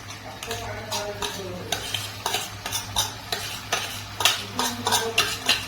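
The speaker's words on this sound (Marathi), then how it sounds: "तुम्ही गॅसमध्ये हलवत राहायचं." Vegetables frying on a gas stove are stirred in a pan, with a spoon scraping and clinking in steady rhythmic strokes over a soft, continuous sizzle close by.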